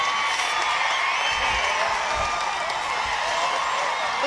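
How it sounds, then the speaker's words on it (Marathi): A dense crowd at an outdoor political rally for Vanchit Bahujan Aaghadi in Kolhapur applauds and cheers, a steady roar of clapping with scattered whoops held at a constant loud level throughout. "जरा जोरदार टाळ्या होऊन जाऊ द्या सुकुमार कांबळे सरांसाठी"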